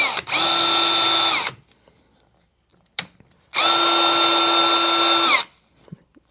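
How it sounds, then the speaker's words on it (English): A high-end power drill bores out a dash part on an XT GT Falcon in two loud, steady bursts of about one to two seconds each, separated by a short pause with a brief click. "Using the most expensive drill I could find on the market."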